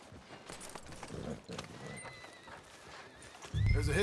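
Horse riding in the video game Red Dead Redemption II, with rhythmic hoofbeats, a neigh, and game dialogue in the background, moderately close.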